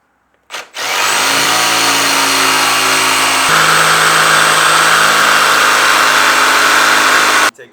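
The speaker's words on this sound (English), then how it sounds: "Now all you're going to want to do is take your jigsaw" A jigsaw cuts a wooden charcuterie board, starting abruptly with a loud, steady motor whine and buzzing blade that shifts pitch partway through, then stops sharply near the end; close and alone.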